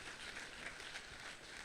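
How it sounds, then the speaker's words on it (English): A hall audience gives a round of applause at a tribute ceremony for Professor Wuraola Adebola Shokunbi, a dense, steady wash of many hands clapping throughout, moderately faint and distant, with no voices over it. "I think this round of applause doesn't do enough justice to the profile."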